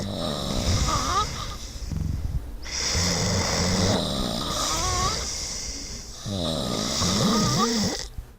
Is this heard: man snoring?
yes